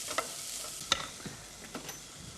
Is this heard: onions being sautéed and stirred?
yes